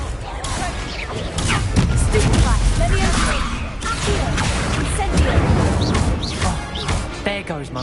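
Confringo blasting spells erupt in a Hogwarts Legacy fight, a dense run of loud crashes, bangs and whooshing impacts with a voice shouting over the battle.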